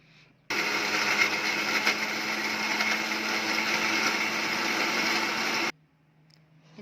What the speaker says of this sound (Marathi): पटापट मिक्सरला एकदम फाईन पेस्टमध्ये होऊन जाईल